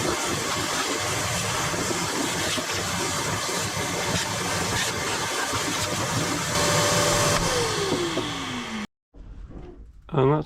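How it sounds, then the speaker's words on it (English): A vacuum cleaner sucks debris out of a car floorpan, roaring steadily for several seconds, its pitch sliding down as it winds off, then a brief restart after a short silence. "I think I might just vacuum this out as well."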